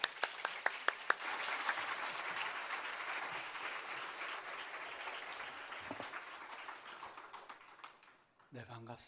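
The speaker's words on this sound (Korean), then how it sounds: "나오실 때 크게 박수로 환영하겠습니다." A church audience welcomes a missionary speaker: a few separate claps build into full applause, which gradually thins and fades. A voice starts speaking at the end.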